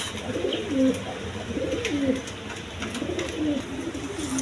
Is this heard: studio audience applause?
no